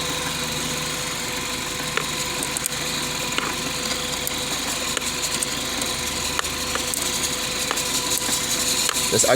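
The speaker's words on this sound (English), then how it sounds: "Just get a 10 millimeter tool like this. Okay, then you're gonna take off the negative first." Ratcheting 10 mm wrench loosening the negative terminal of a car battery: a steady run of fine metallic clicks over a continuous engine-like drone, close and fairly loud, with no talk.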